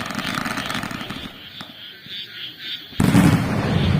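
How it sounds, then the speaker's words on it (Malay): Firecrackers set off at night during a village Hari Raya celebration, heard as a dense crackling burst that drops away briefly, then returns loud and sustained with booming low rumble near the end. "Di belah sana bakar mercun."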